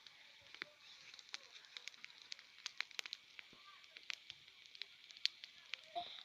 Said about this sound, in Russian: Вот такой вот костер.